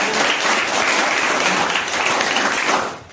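An audience on a Hindi quiz show applauds loudly and continuously to welcome a contestant to the hot seat, dense clapping that fades at the end.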